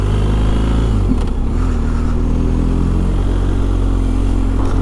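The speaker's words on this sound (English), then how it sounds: "A lot of motorcycles out today." Several motorcycles pass on the road, their engines loud and close with a steady roar and a shifting rev as one goes by, no talk over them.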